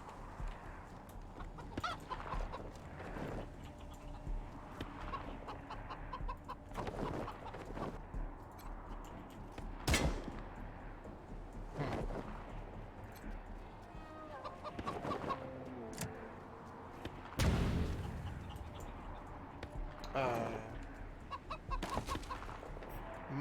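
Chickens cluck and squawk in the Wasteland 3 video game, with repeated bursts of clucking at irregular intervals over a steady backdrop of game ambience and occasional louder calls.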